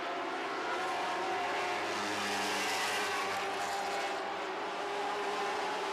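Lightning sprint race cars roaring around a track during a feature race, a continuous loud engine drone with rising and falling pitch as cars pass, steady and dense throughout without pause.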